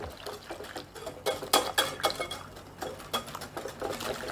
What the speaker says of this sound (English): Then I'm going to try to stir all these together, mix them up, and get them all incorporated.